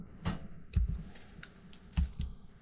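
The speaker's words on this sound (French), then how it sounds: "Dans le champ des remèdes, je tape ici Crocus." A few keystrokes on a computer keyboard, entering a search term in homeopathy software, come as soft, scattered clicks and taps, close and quiet, with no talk.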